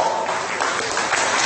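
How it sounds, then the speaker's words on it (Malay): Thunderous applause from a political rally crowd in Pantai Remis, Perak, a dense, steady wash of clapping with no clear individual claps, filling the moment without talk. "Beri tepukan gemuruh kepada yang berhormat"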